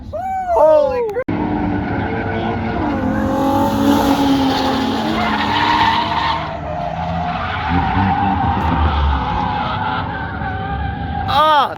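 Drifting car at the AVS event with tires squealing and skidding loudly and continuously under a revving engine for most of the stretch, close by, with brief shouted voices at the start and end.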